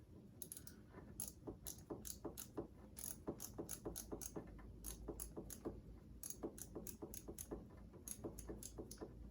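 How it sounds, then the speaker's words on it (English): A ratchet wrench turns a socket on a Subaru Forester XT, clicking in short bursts of one or two clicks with a steady, close, crisp rhythm throughout. "I'm only doing like 1 or 2 clicks on this socket at a time, just to make sure it's only going like that far"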